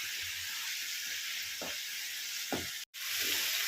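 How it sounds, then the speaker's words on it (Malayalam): Masala with a splash of hot water bubbling in a pan for chapati noodles, a steady close hiss and sizzle with a few soft stirring scrapes and a brief dropout near the end. "ഇനിയിപ്പോൾ ചൂടുവെള്ളമാണ് ഇച്ചിരി ഒഴിച്ചു കൊടുത്തത് അതും കൂടെ ഒന്ന് തിളപ്പിച്ചെടുക്കാം"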